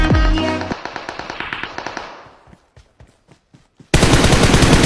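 Gunfire in the mobile game PUBG Mobile crackles as a fast automatic burst of sharp shots that thins into scattered pops, then breaks into a loud, dense roar of noise at the end.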